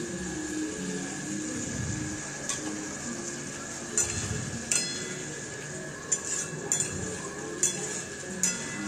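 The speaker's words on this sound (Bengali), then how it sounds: "জল দিয়ে আরেকটু ভালো করে আমি নাড়াচাড়া করে নেব।" Pumpkin curry being stirred in a cooking pot, a spoon scraping and clinking against the metal in scattered taps over a low simmering sizzle, with no voices.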